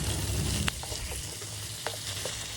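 Chopped vegetables and onions frying in mustard oil in a pan, a dense close hiss of sizzling with a couple of sharp clinks and light stirring scrapes.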